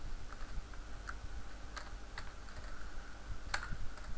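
Quiet, scattered keystrokes on a computer keyboard as a short label is typed, a few irregular taps spaced across several seconds with near-silent gaps between them.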